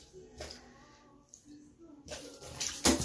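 Water splashes from a pet animal thrashing in a water-filled tank during a live feeding, faint bursts at first and then louder, sustained splashing toward the end, with a person talking over it.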